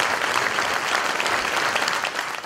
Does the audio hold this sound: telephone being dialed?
no